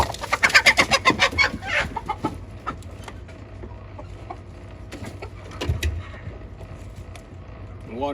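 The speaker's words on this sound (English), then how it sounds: "These are some big roosters." Large backyard roosters and chickens cluck and crow in a busy coop, the calls loud and close at first and then scattered among rustling and someone talking.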